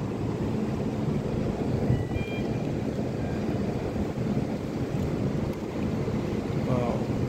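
Cold wind blowing along a remote, sparsely populated seashore near Perth, Australia, a constant loud rumble of gusts buffeting the microphone over the soft wash of light waves.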